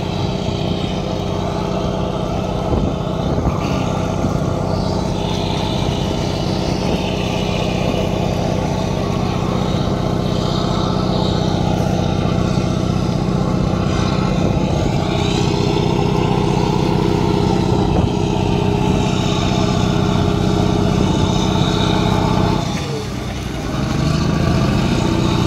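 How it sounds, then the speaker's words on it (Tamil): A fishing boat engine rumbles continuously at Karaikal beach while one boat tows another, a steady loud drone with a brief dip near the end. "ஒரு போட்டு இன்னொரு போட்டை இழுத்துக்கிட்டு வருது."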